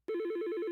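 A telephone rings in a short electronic warble, a rapid pulsing trill that starts abruptly and continues evenly, clear and alone with no voices.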